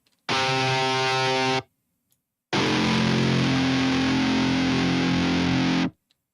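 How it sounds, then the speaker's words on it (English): Two sustained, heavily distorted, processed MIDI guitar tones, synth-like, loud and thick, separated by a short silence, with no talking. "So what you're hearing is MIDI guitar."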